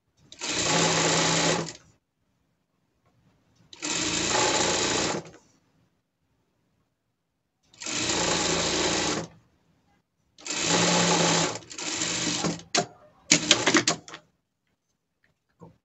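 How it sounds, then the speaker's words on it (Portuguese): Sewing machine running a safety seam along a gala dress, heard as five loud bursts of fast stitching separated by short silent pauses, the last few runs shorter and more choppy. "Aqui a gente passa uma costura de segurança"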